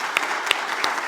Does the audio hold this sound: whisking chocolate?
no